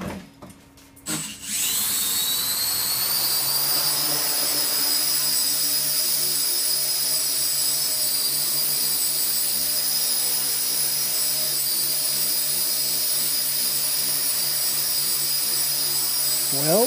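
Homebuilt Y-configuration tricopter with electric motors on 10-amp speed controllers, propellers spinning up after a brief start and then holding a loud, steady high-pitched whine close by for the rest of the flight.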